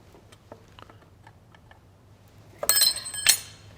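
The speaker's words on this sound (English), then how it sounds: "That's a 7/16 spanner I'm dropping, throwing around the countryside." A 7/16 spanner dropped during a nut-and-bolt restoration of a Massey Ferguson 65 tractor lands with a bright metallic clatter, two sharp close clinks about half a second apart after faint taps.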